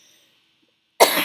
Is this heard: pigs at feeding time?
no